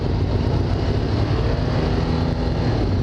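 A motorcycle engine with throttle problems drones loudly and steadily at close range, a dense low rumble with wind and road noise throughout and no speech.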